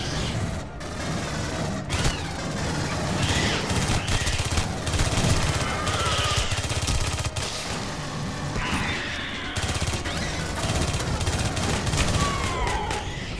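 Heavy automatic gunfire and bursts from a three-shot weapon in the Aliens: Colonial Marines shooter game rattle almost nonstop for about thirteen seconds, loud and dense, with occasional crashes and impacts mixed in.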